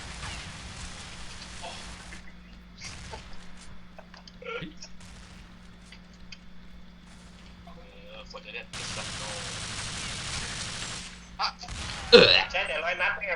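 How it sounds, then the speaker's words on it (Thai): Bursts of rapid water gun fire in a video game deathmatch pop in and out over a steady game background, with people talking and reacting throughout. "เสียงปืนฉีดน้ำ"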